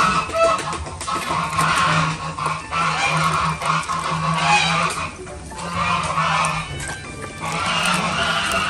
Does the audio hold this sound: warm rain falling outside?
no